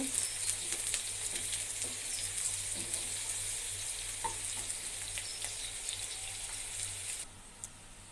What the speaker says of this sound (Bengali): আমি এটা নেড়ে ছেড়ে বাদামি কালার করে নেব